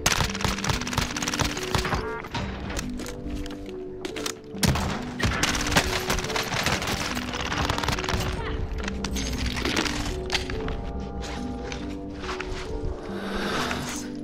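Rapid gunfire and impacts in a shooter game with an L96A1 sniper rifle, dense cracks and bangs piling up over busy game background noise, with scattered footsteps and brief clatter.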